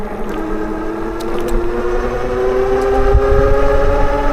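A Wildeway Wander 26x4 dual-motor electric bike accelerates on throttle with a close, steady electric whine that climbs in pitch, over a low wind and road rumble, with no voices.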